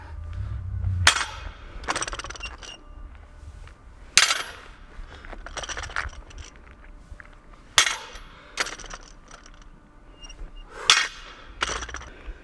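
A 155-pound deadlift with 55-pound bumper plates: sharp metallic clanks and thuds recur about every three seconds as the bar and plates set down and lift, with no talking.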